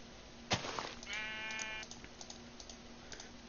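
A sheep bleats once in the video game Minecraft, a short nasal wavering call near the start, followed by soft scattered clicks and a buzzing tone under a quiet background.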